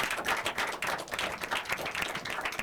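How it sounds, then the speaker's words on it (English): Audience at a school debate competition applauding a speaker, a fairly quiet but dense clatter of many hands clapping steadily throughout. "Give her a round of applause,"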